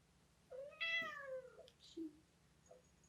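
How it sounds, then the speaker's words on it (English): A pet cat meows once up close, a drawn-out, wavering cry, followed by two short chirping mews, all in a quiet indoor room. "This is my cat."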